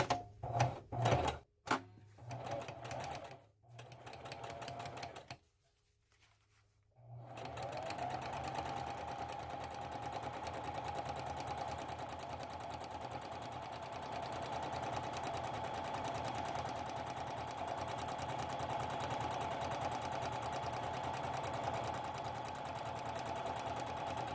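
A sewing machine stitching the seam of a round bottom bag, starting with a few short bursts and a pause, then running in a long, steady, fast mechanical whir until the end.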